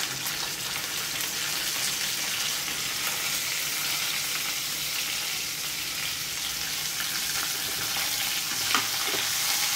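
Long-cut garlic sizzles in a hot pan as it fries toward golden red. The crackling hiss is steady and close, with faint stirring and no talking.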